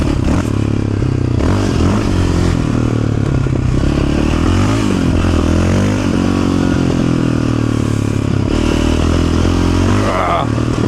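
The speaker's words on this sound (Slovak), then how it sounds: "Štvorkolka, ne motorka." A quad bike engine drones loudly and steadily while it is ridden, with revving rises and falls and rattling, scraping clatter over rough ground. Riders' voices break through in places.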